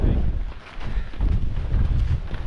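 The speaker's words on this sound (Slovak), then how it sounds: "Ten vietor má silne cez 100 km." Strong wind of over 100 km/h on the open summit ridge of Kráľova hoľa, a mountain, roaring and buffeting the microphone in a continuous, loud, low rumble with no talk.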